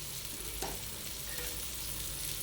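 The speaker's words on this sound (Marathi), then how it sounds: "मीडियम गॅसवर मी हे फ्राय करते" Stuffed bangda mackerel fries over a medium gas flame, a soft, steady sizzle and crackle with one brief sharper spit of oil.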